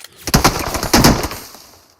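A quick burst of automatic gunfire in PUBG Mobile, a loud rapid string of sharp shots lasting just over a second before tailing off, close and alone without talk.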